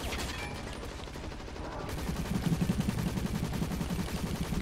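Automatic gunfire bursts in the video game Hazard Ops, a steady rapid rattle of shots that grows louder and denser in the second half, with no talk over it.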